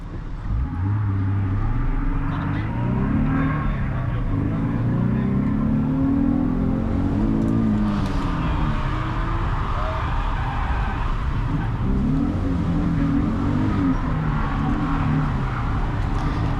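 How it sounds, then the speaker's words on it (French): A Nissan 350Z drifting at a Ferté-Gaucher track during a drift competition, its engine revving loudly and continuously with rising and falling pitch as it slides nearby. "C'est Guillaume qui glisse sur la piste de la Ferté-Gaucher avec sa 350Z qui vient bien chercher cette zone de clip en étant extérieur."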